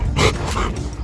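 A dog barks and yips up close in a quick burst of short, loud calls, with no voices over it.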